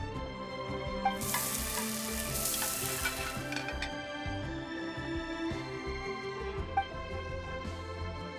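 Crabs frying in a pan during a cooking scene in Genshin Impact, a game-style sizzle that swells loudly for a few seconds then settles, with bright chime-like accents and a soft musical bed.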